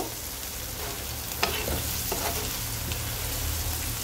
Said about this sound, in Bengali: আমি আর একটু এরকম নাড়াচাড়া করে ভেজে নিব।